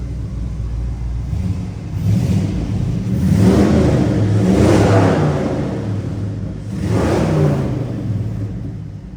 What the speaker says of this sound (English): Go ahead and give it a rev.